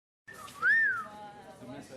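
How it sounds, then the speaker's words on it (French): A person whistles at someone, a sharp rising-and-falling whistle that follows a brief silence, and the sound is faint room tone and a little voice activity around it. "C'est vous qui m'avez sifflé?"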